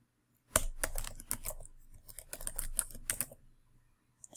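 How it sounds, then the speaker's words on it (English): Computer keyboard typing up close: a quick burst of crisp key clicks and taps in irregular clusters after a brief silence, quiet and alone without any voices. "So we type that in"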